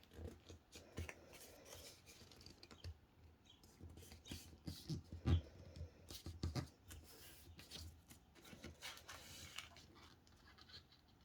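Scissors slicing a strip from old thrifted paper, a run of soft, close snips and crisp paper rustles at a quiet level, with faint scraping between cuts.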